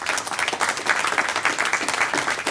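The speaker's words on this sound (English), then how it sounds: "So let's give a big round of applause for some OutSystems." A crowd at a tech breakfast event applauds after a round of product demos, a dense burst of clapping with slight swells, fairly close.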